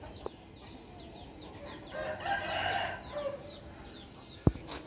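Roosters and hens kept in large numbers by residents near Hua Lamphong in Bangkok crow and cluck in overlapping calls, with one loud crow in the middle and a sharp knock near the end.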